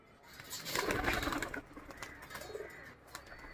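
Pigeons coo in a short, close burst of soft throaty calls, loudest early and then settling into quieter cooing; no voices.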